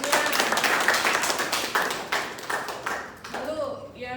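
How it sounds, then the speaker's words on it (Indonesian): A classroom of students claps for a classmate, a brisk burst of close, scattered hand claps that thins out and fades, with a voice speaking briefly at the end. "Beri tepuk tangan dong buat temennya."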